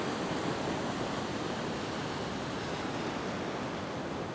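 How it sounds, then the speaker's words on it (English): Ocean waves break on a rock shelf after a big swell, making a continuous, fairly faint wash of surf noise with no distinct single crashes and no voices. "there's just a little bit of a set of waves coming through"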